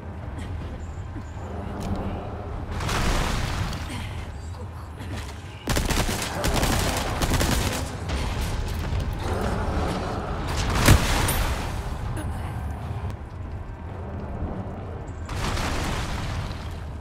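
A cannon in Resident Evil 4 Remake fires in several heavy booming blasts spread over a long stretch, each followed by rumbling debris, with a sharp loud crack near the middle and game ambience between shots.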